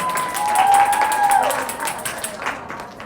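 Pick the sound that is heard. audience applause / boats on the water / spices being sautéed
audience applause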